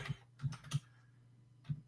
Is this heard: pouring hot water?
no